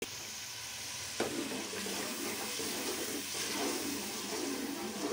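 Spices frying with chicken and potato in a pan make a steady, fairly quiet sizzle throughout, with one faint scrape of stirring.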